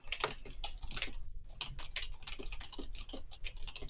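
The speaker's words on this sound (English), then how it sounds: "Sorry for my very loud typing." A computer keyboard clatters with rapid, irregular keystrokes, close and crisp, with a brief pause partway through before the typing resumes.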